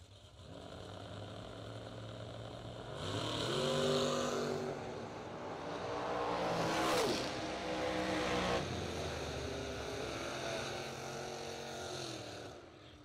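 A Camaro and a Camaro Roadster drag racing at a bracket event: engines swell from a distant rumble to a loud roaring pass that peaks and then fades, heard alone from the side of the strip.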